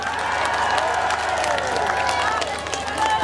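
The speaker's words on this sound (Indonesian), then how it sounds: "Tepuk tangan ya." A large crowd of residents in Aceh at an outdoor group walking event applauds on cue, steady dense clapping with scattered cheers filling the whole moment, loud and close, with voices mixed in.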